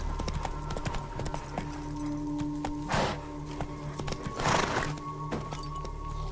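Roach, a horse in the video game The Witcher 3, gallops with a steady rhythmic clip-clop of hooves, moderately close, with a couple of brief louder whooshing bursts mixed in.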